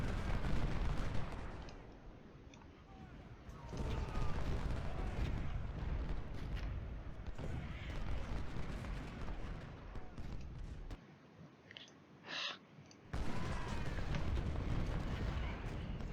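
Artillery fire in the Civil War strategy game Ultimate General: Civil War, a dense dull rumble of booming cannon shots that drops out briefly near the end and then resumes, steady and loud throughout.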